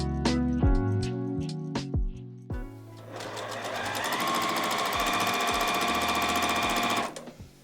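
A sewing machine stitches quilt block pairs together, its needle first tapping in short separate bursts and then running in a long, steady, even drone before stopping, close and alone without speech.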